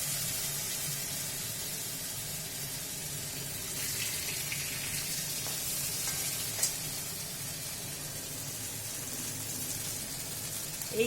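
Cornflour-coated ash gourd slices fry in oil in a wok with a steady, even sizzle that holds at the same level throughout, close by and with no talking.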